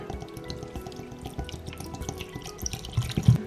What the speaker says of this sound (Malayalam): ഇനി ഇതിനകത്തോട്ട് ഒരല്പം വെള്ളം ഒഴിക്കാം. നമുക്ക് തണുത്ത വെള്ളം ഒഴിക്കുന്നതായിരിക്കും ഒന്നുകൂടെ നല്ലത്.